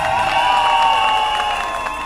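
A church congregation at a thanksgiving day service in Yaoundé applauds an arriving priest, steady massed clapping from a crowd, loud and close, over a bright sustained tone that fills the background.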